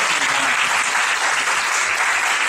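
A church youth congregation claps in a dense, continuous burst of applause lasting the whole span, loud and evenly sustained with no speech over it.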